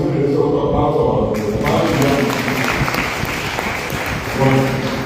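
Sustained audience applause for Emiliano at a commemorative event marking his 130th birth anniversary, a dense steady roar of clapping that swells slightly near the end, with some voices mixed into the crowd.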